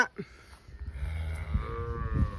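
A cow moos loudly and at length on a farm where cattle are being sold, its drawn-out low call steady and close, with faint farmyard noise around it and no talking.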